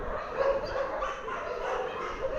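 A dog barks and yips in short, close bursts over a steady noisy background at an outdoor spot in Nasugbu, Batangas.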